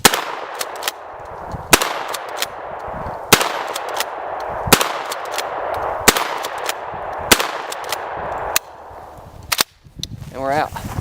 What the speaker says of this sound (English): let's take a few more shots here, ring these steel targets a little bit